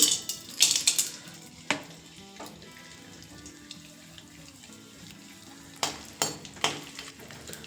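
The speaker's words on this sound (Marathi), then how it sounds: "आता यामध्ये आपण डिंक तळून घेऊ।" Edible gum (dink) dropped into fully melted ghee and fried a little at a time, a soft crackling sizzle with scattered sharper pops and clinks, loudest at the start and again near the end.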